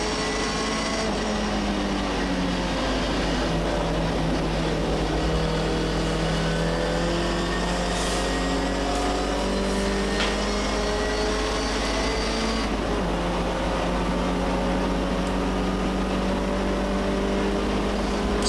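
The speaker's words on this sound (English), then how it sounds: "So a bit of heel and toe there from 4th to 3rd to 2nd" A blue MGB race car at Donington Park circuit, its engine droning loud and close with rising and falling revs as the driver blips the throttle through heel-and-toe downshifts from fourth to third to second.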